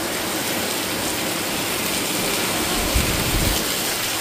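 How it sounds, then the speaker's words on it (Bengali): Steady heavy rain pours down in a dense, continuous hiss with no pauses, a low rumble swelling briefly toward the end. "দেখো কি বৃষ্টি পড়ছে"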